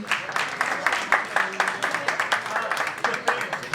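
Audience applause at a punk-rock concert at Boca Nord, a dense patter of hand claps rising and falling in a few swells, fairly close, with voices over it.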